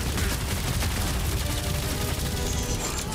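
Rapid bursts of gunfire in the video game Guardians of the Galaxy crackle continuously, dense and loud, with booming impacts layered over a busy soundtrack.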